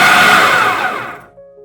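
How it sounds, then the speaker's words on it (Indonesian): A blender coarsely chops chili sambal lado ingredients with a loud, steady whirring roar that winds down and stops after about a second and a half. "Bahan sambal ladonya ini mau saya blender aja, tapi blender kasar ya teman-teman"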